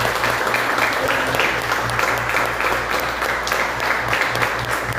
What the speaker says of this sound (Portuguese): Vamos aplaudir Jesus pela vida de Esther.